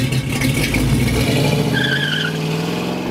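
A 1970 Buick GS engine roars steadily with a deep rumble while tires squeal briefly, loud and close.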